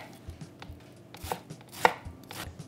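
Onions chopped on a board with a knife make sharp, irregular taps at close range, a few strokes landing harder than the rest, with no talking.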